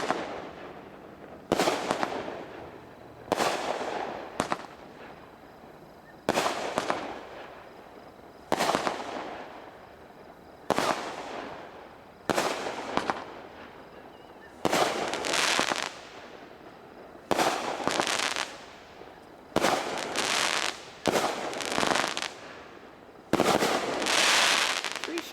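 Sixteen Strongman firework cake firing in a series of loud, sharp bursts with crackling breaks, roughly a dozen separate volleys spaced a second or two apart, close and clear with no talking.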